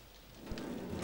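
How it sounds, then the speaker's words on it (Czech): Rain falls steadily in the video game 7 Days to Die, a soft continuous patter with a low rumble beneath, faint and without voices. "Už zase prší."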